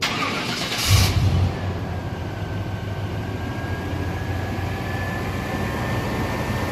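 A 1977 Chevy Silverado K10 engine cranks briefly and catches, then settles into a steady, fairly loud running rumble that continues without talk.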